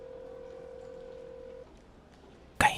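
An unanswered telephone rings: one steady electronic tone holds for about a second and a half, then a quiet pause, and a short sharp burst ends it; no voices.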